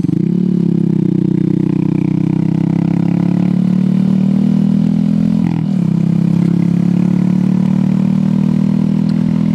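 A Honda Grom motorcycle engine hums steadily and loudly, heard close while riding, with a brief dip in pitch midway before settling back to an even drone.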